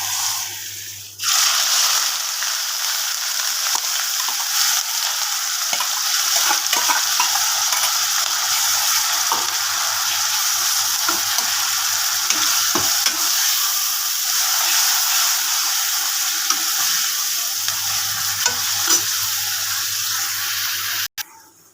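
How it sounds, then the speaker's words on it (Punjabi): Steady, loud sizzling of cumin and tempering spices frying in hot oil in a pan, continuous and close, with a low hum coming and going underneath and no talking. "ਲਓ ਜੀ ਆਪਣਾ ਤੜਕਾ ਜਿਹੜਾ ਭੁੱਜ ਚੁੱਕਿਆ ਵਾ"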